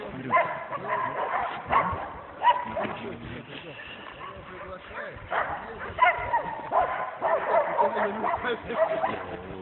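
Hunting dogs working a bear in the forest, barking and yelping in uneven bursts at moderate distance, with whimpers in between and people's voices running underneath.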